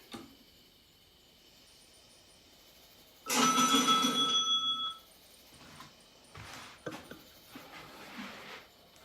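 A 1969 Seven Up electromechanical pinball machine converted to Arduino powers on with a burst of bright electronic chiming and tones for under two seconds, followed by scattered mechanical clicks and clunks over a quiet hum.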